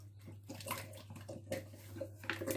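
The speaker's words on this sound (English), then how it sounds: "now last, you're going to put some cultured buttermilk in" Cultured buttermilk, about half a liter, poured from a bottle into homemade biscuit mix, giving a soft wet splashing and gurgling over a steady low hum, with brief louder glugs near the end.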